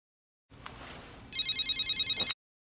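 A telephone rings once in an electronic trill after a short stretch of faint hiss, the ring loud and close, then cutting off abruptly.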